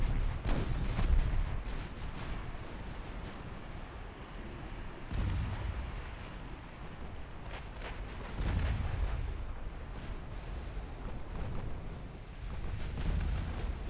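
Naval gunfire from warships in Ultimate Admiral: Dreadnoughts, a steady series of deep, rumbling cannon booms recurring every second or two at moderate volume, with no talking.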